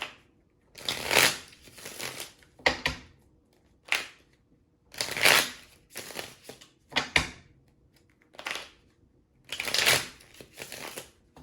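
A deck of tarot cards is shuffled close up in repeated bursts of riffling and slapping, each flurry separated by short pauses, crisp and moderately loud.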